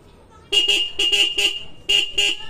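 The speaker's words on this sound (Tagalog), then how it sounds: "Ang lakas ng busina." A Suzuki X4 motorcycle's loud, bright horn honks in a series of quick double beeps, three pairs in a row, close and insistent.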